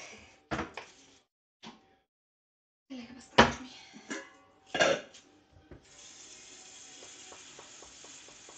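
Scattered metallic clanks and knocks of a pot of water being handled on a stove for boiling pasta, then a steady hiss like water or a burner running underneath.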